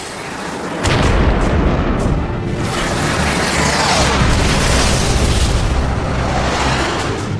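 A missile strike blowing up a MiG fighter jet in an air dogfight produces a loud, sustained explosive roar that starts abruptly and rumbles on with a broad, continuous blast for several seconds.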